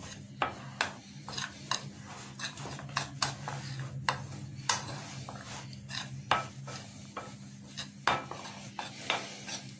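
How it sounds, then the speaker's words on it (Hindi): Cornflour being stirred into onion pakora batter in a bowl, with repeated soft scraping and tapping strokes of a spoon against the bowl, close and fairly quiet over a steady low hum. "इसे भी मैं बड़ी अच्छी तरह इसमें मिक्स कर दूंगा"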